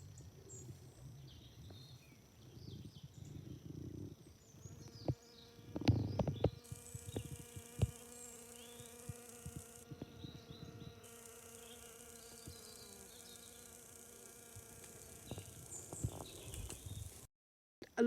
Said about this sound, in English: The bees are enjoying them too.